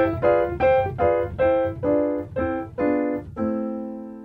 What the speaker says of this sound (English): these closed position six diminished chords that sound like this